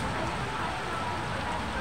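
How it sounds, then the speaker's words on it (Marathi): Heavy monsoon rain pours down in a steady, dense hiss with no gaps, loud and close for the whole stretch. "पाऊस किती भयानक."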